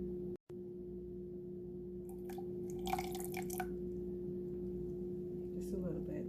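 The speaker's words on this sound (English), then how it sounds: "Now I'm just going to pour a little bit of the tea in there" Tea pours and trickles into a cup in short bursts over a steady low background hum.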